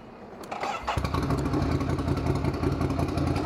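A 2022 Ducati Scrambler motorcycle starts with a brief crank, then settles into a loud, close, throbbing idle through its loud exhaust system.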